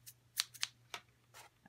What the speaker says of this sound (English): Fringe scissors. Choppers. And I'm just going to chop like this.